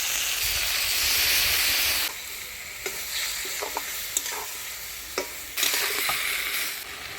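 A steady hissing sizzle of mustard paste frying in a pan, quieting after a couple of seconds, with occasional stirring scrapes and pops.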